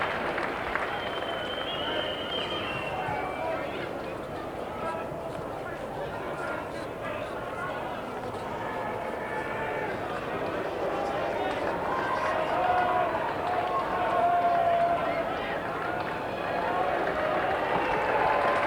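A big crowd at Football Park applauds during the 1988 Escort Cup as a football player leaves the arena, with steady clapping and crowd noise running throughout and growing slightly louder toward the end.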